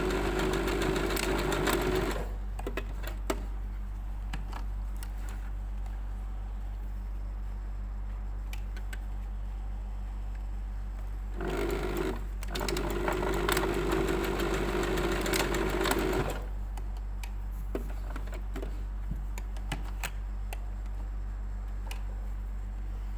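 Close by, a sewing machine stitches straps in two bursts of rapid, steady mechanical whirring, one near the start and one longer run in the middle, with quieter stretches of low hum in between.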